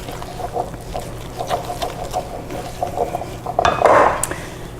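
Nuts and cranberries being folded into quick bread batter in a bowl, a cranberry orange loaf, giving soft repeated scraping and clinking of a spoon against the bowl, louder and busier near the end.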